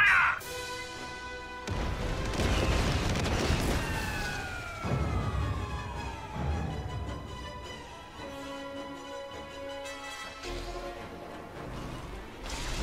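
Barrage of blaster and cannon fire aimed at Luke Skywalker in a Star Wars battle, with loud repeated bursts, blasts and descending whistling tones sweeping over a dense roar, followed by quieter tonal sounds.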